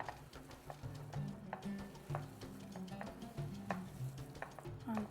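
Spices and ground meat for Iraqi basterma sausage are stirred together in a bowl with soft, rhythmic scraping and clicking strokes, close and quiet, with no voices.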